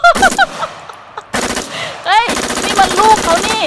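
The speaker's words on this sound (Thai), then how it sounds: "แล้วเขาเอาปืนมายิงกอริลลาทุกคน" Rapid gunfire bursts ring out from a gun shooting gorillas in a Roblox game, loud choppy volleys separated by short gaps, mixed with squeaky game sound effects and honk-like calls.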